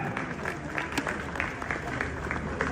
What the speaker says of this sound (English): A round of applause for Wodemaya